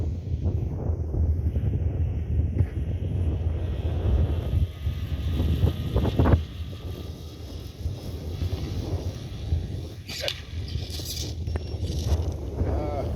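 Strong wind buffets outdoors while a Buddy 380 RC aircraft flies, a loud, steady low rumble of gusts across the microphone, with a voice talking over it.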